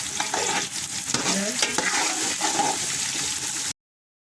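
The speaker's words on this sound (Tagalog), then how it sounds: "nag-brown na yung ating onion and garlic" Onion and garlic frying until brown for a chicken curry, a steady close sizzle with occasional stirring scrapes, ending abruptly.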